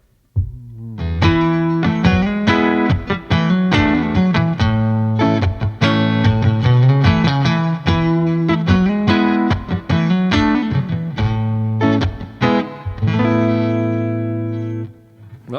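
A Chinese-made SX SST57 Stratocaster copy on the neck pickup, overdriven through a Tiny Terror amp, strums chords and picks notes steadily, loud and full, the last chord left to sustain.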